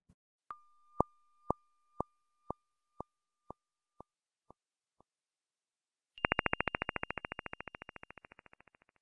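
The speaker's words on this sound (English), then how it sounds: "these are the sounds for low or high star formation rate, that is, inactive versus very active galaxies" Synthetic sonification tones representing low versus high galaxy star formation rate: first a slow series of about nine evenly spaced pure beeps fading out, then after a pause a rapid, dense train of bright pulses that gradually decays.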